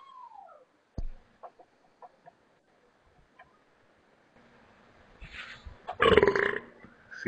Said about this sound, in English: Had to get the beer burp out.